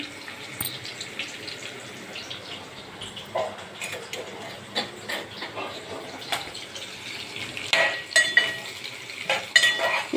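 Curry leaves fry in a tempering for Andhra-style burgula talimpu, giving a soft crackling sizzle with intermittent clinks and scrapes of a spoon stirring the pan, growing busier toward the end; no talk.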